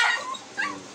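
A pet dog gives two short, close yips or whimpering barks in quick succession, clear and alone with no talking.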